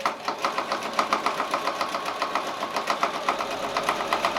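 A sewing machine quilts a seasonal sampler quilt, its needle thumping in a steady, even rhythm throughout, close and fairly loud with no talk.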